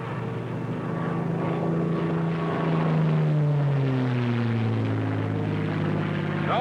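A WW2 propeller warplane dives at high speed, its steady engine and propeller roar droning loud and continuous while the pitch slowly sweeps downward as it passes, with no talking.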